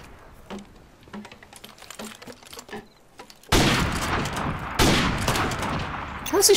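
Computer keyboard typing clicks give way to loud sustained gunfire bursts from Call of Duty: Modern Warfare Remastered, close and dense in the second half.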